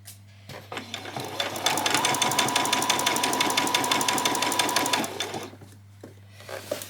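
A sewing machine runs at speed for several seconds, stitching a ruffle seam on a spring outfit, a fast even mechanical whirr that starts and stops close by, with a steady low hum beneath.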